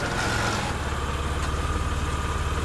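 A car engine idles with a steady, close, low mechanical drone as the vehicle comes to a stop; the hum stays even throughout with no voices.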